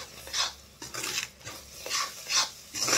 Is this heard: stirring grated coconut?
yes